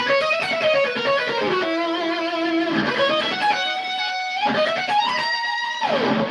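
A distorted electric guitar plays a busy solo with sliding, bending notes and quick runs, loud and continuous without any voice.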